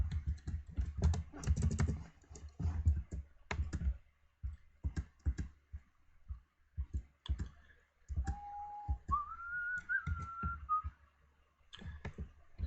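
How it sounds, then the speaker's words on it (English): A person types rapidly on a computer keyboard, the clicking steady and close, then whistles a few sustained tones over the keystrokes partway through. "Not only have you got me whistling, you've now got me singing."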